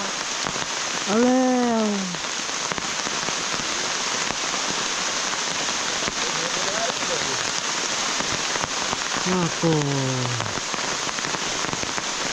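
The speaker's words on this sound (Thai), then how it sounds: "ฝนตกแล้ว" Steady rain falls with a dense, even hiss throughout, close and constant, while a voice calls out briefly over it and a couple of rising, bird-like whoops sound near the start and again toward the end.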